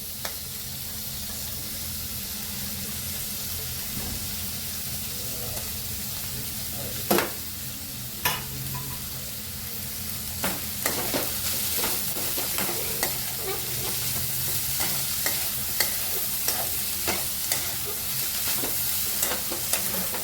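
Spring onions stir-fry in oil in a pan for egg fried rice, a steady close sizzle with irregular scraping clicks from a spatula that grow more frequent toward the end, no talking.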